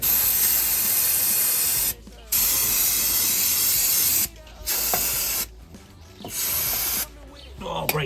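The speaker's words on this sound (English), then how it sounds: "Oh, brake cleaner bath." Brake cleaner sprayed from an aerosol can onto a brake caliper carrier, four long loud hissing bursts close up, separated by short gaps.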